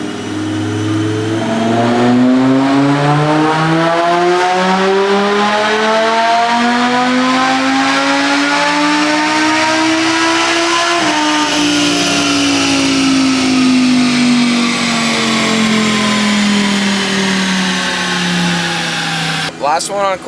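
A supercharged Lamborghini in sport mode accelerates hard through the gears, its engine and supercharger whine climbing steadily in pitch, loud and close from inside the car, with a gear shift midway.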